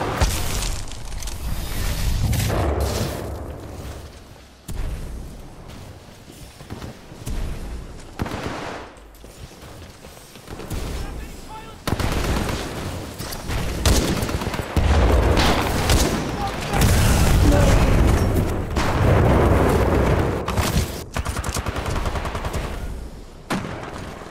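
Gunfire and explosions from the Titanfall 2 video game in an Attrition match, with dense, loud bursts of rapid shots and booms that continue almost without pause, interrupted by a few brief lulls.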